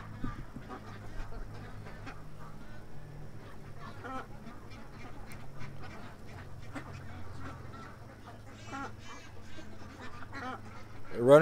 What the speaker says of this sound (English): We got some ducks in front of me here.